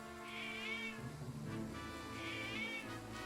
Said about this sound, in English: That's an interesting meow.